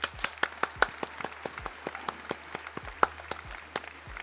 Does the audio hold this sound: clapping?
yes